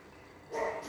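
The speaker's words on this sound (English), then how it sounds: "my neighbor's dog is barking." A neighbor's dog lets out a single short bark partway through, muffled and moderately distant, over a quiet background.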